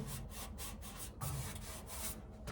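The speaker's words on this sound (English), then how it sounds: "I'm gonna go ahead and finish sanding this up" Sanding the body of a 1962 Chevy truck: quiet, repeated rubbing strokes in an even back-and-forth rhythm, close up and alone.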